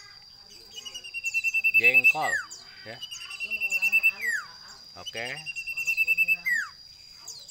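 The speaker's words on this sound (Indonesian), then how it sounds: "Burung nggak ada berhentinya ya. Sampai sore berkicau terus." Common iora (cipoh), a hand-raised bird about a year old, sings clear whistled phrases: three bursts of rapid rising trills ending in sliding notes, close and bright, with a brief spoken comment between them.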